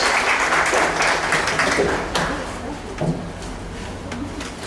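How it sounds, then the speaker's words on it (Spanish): Audience at a lawyers' association lecture gives a loud round of applause for the speaker, dense clapping that gradually fades, with a few distinct claps toward the end. "Por favor, un fuerte aplauso"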